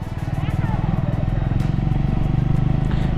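A scrambler motorcycle fitted with a top box rides slowly along the curves of the Araku Valley ghat road, its engine a steady low pulsing rumble under a rider talking throughout.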